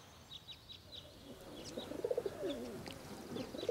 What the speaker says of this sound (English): You can hear the cooing of the pigeons